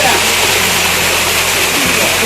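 Ramiyanahalli Falls waterfall on Sri Mannar Krishnan hill, a steady, loud broadband roar of rushing water filling the whole clip without pause, with a low rumble underneath.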